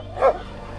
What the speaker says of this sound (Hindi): ओए, कुत्तों को परे करो